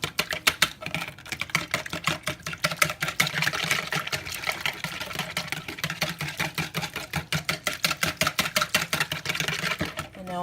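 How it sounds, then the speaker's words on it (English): Olive oil is whisked in a bowl for brownie batter, with a steady rapid rhythm of close, crisp ticking strokes running without a break. "I'm gonna go ahead and whisk this up"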